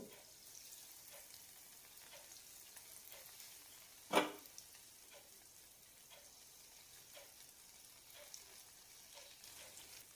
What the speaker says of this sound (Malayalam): ലോ ഫ്ലെയിമിലിട്ട് തന്നെ വറുത്തെടുക്കണം.